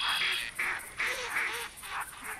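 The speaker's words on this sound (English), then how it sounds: "there's a bunch of ducks." Flock of ducks quacking in the hunting video game TheHunter Classic, a run of repeated nasal calls overlapping at a steady, fairly loud level with no talk.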